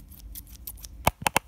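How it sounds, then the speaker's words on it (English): Scissors snip at a plush toy package, a few quick sharp cuts near the end after some light handling rustle, with no talking. "I have my scissors."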